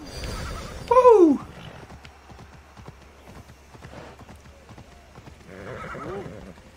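A horse in the video game Immortals Fenyx Rising gives one loud, close whinny that rises and falls. Quieter hoof clops and scattered footfalls follow, with a faint rustle near the end.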